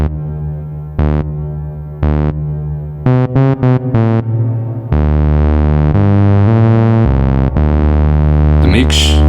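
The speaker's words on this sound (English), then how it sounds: "The Trinity is a reverb pedal, so I can turn up the decay." Behringer TD-3-MO synth notes run through a Trinity reverb pedal with the decay turned up, loud staccato notes giving way to long sustained washes of reverb that trail on, then a brief swirling sweep near the end.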